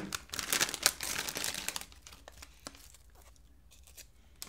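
Plastic crinkles and rustles loudly at first, then quieter snipping and soft crackles follow as a bag of pork rinds is cut with scissors, close up with no talking.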